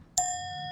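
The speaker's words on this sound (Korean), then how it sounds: "초인종이 울렸다." A single bright doorbell chime strikes once and rings on with a steady, sustained tone, clear and alone with no voices around it.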